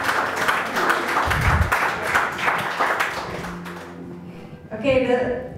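Congregation applause at a church service: dense, fairly loud clapping with a steady rhythmic pulse and voices mixed in, fading after about four seconds before a voice speaks alone.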